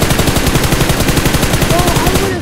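Rapid automatic gunfire in a video game firefight aimed at a crate, a loud, dense, steady rhythm of shots lasting the whole moment, close up.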